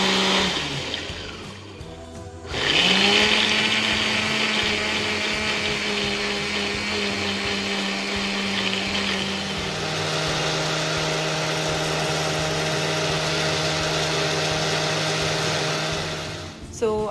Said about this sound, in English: Now I will load everything in this mixie jar and will blend it in a coarse mixture.